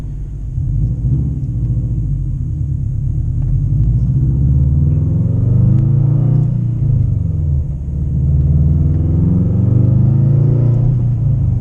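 A Subaru WRX running a Cobb Accessport race tune drives along, its engine a steady loud low rumble with rising and falling pitch as it pulls through gears, heard close from inside the car.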